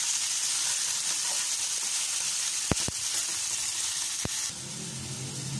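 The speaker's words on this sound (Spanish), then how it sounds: "poquito de aceite, voy a poner ya todo esto. Aquí se fría." Herring frying in oil in a pan, a steady loud sizzle with a few sharp pops and crackles, settling into a lower bubbling hiss near the end.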